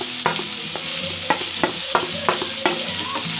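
Cumin seeds and finely chopped onions frying in hot oil for an egg paniyaram gravy, a steady sizzle broken by repeated sharp scrapes and clinks of a spoon stirring the pan, close and alone.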